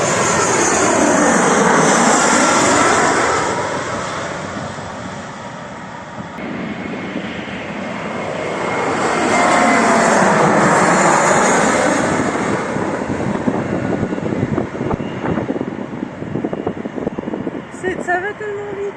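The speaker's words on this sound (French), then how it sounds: "ça doit être impressionnant de voir l'avion qui arrive tellement près de toi" Airplane coming in to land very close overhead, a loud jet roar that swells, fades slightly, then swells again as it passes, with a sweeping, shifting whine; people talk beneath it.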